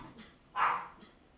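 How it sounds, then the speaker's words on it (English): A dog lets out a single sharp bark between faint softer yips, the sound slightly distant and brief in a quiet room. "enjoy the dog, enjoy the doggy sounds"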